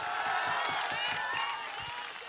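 A crowd claps steadily at an outdoor political rally in Jehanabad, Bihar, with dense continuous applause and faint voices beneath it.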